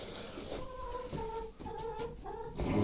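Hens cluck and call during a Christmas Eve feeding, a series of short repeated tonal calls close by over a steady background of farmyard noise.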